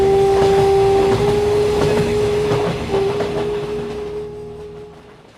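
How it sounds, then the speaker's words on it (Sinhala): The Thirukkural Express runs with a loud, steady rumble and a sustained tonal hum, faint rhythmic clacks on top, fading away toward the end. "මේ කෝච්චියේ නම තිරුක්කුරල් එක්ස්ප්‍රස්"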